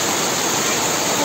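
Floodwater rushes over a road at Lamachaur, Pokhara, during torrential rain, making a loud, steady, close-up roar with no pauses and no voices.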